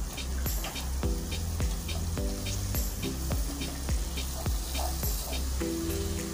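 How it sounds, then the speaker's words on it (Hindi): Ginger garlic paste sizzles and fries steadily in a pan for prawn pulao, with a rhythmic series of spoon scrapes and stirs over the constant hiss, close and fairly loud throughout. "जिंजर गार्लिक पेस्ट को मैंने अच्छे से भून लिया है।"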